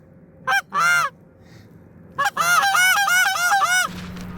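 Geese honk loudly and close during a goose hunt, two short calls followed by a rapid run of about eight honks in quick succession.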